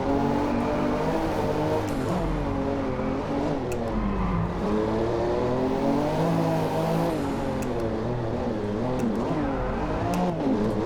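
Race car engine in the DriveClub video game, revving hard with rising and falling pitch sweeps as it shifts and downshifts, loud and continuous throughout with no talk.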